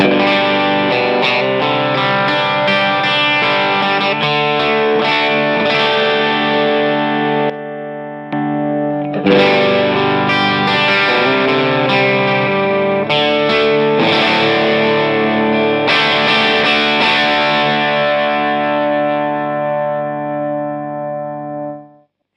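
Electric guitar on the bridge pickup through Harley Benton compressor pedals pushing the amp into slight overdrive plays chords and notes continuously, compressed, loud and sustained, briefly pausing midway before ringing out to a fade.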